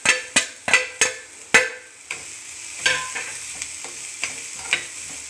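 A spatula gives several sharp knocks and scrapes as onions are stirred in a hot pan with coconut and coriander added. The knocks slow into a softer, fainter sizzle with occasional taps, close up and with no voices.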